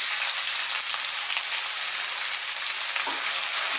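Garlic and onion sautéing in hot cooking oil in a wok, a steady dense sizzle and crackle that holds loud and even throughout with no voices.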